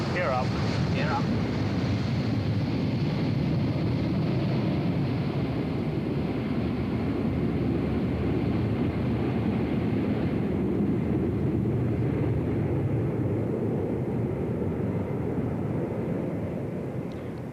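A British Airways airliner climbing out after takeoff from Heathrow gives a steady, broad engine roar under heavy wind rush, fading slightly toward the end.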